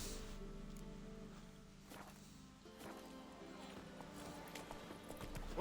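Roach, the horse in The Witcher 3: Wild Hunt, walks with a steady clip-clop of hooves amid light rustling, at moderate loudness with a slight swell toward the end.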